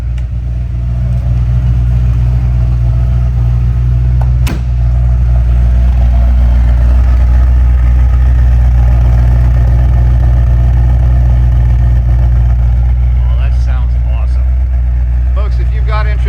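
A 1979 Porsche 928 V8 idles loudly and up close with a steady, deep rumble, and a brief sharp click partway through.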